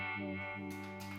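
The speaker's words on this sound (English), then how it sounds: "The ubiquitous vibe." An electric guitar played through a uni-vibe effect, its sustained notes warbling and swirling with a throbbing modulation, fairly faint and with no talking.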